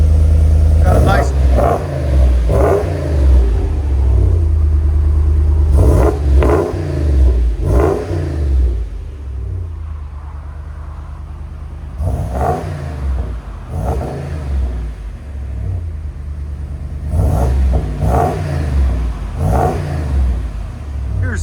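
A RAM 2500 6.4L V8 with the muffler cut off and a dump exhaust revs hard again and again, each loud blip rising and falling into a deep idle rumble between bursts, close to the truck.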